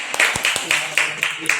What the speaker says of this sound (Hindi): तालियों की आवाज जोरदार होनी चाहिए।